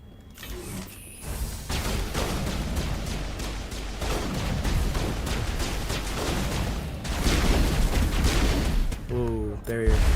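Rapid assault rifle fire in Mass Effect Legendary Edition, dense sustained bursts of shots with a brief pause, loud and close, followed by a short mechanical sound at the end.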